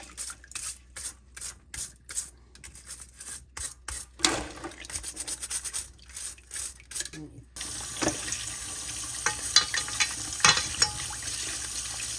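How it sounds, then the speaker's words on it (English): A brush scrubs raw crab clean, a run of rapid rhythmic rubbing strokes in short bursts, then a softer, continuous scrubbing with occasional scrapes, faint and close. "I'm going to brush crab now to clean it out"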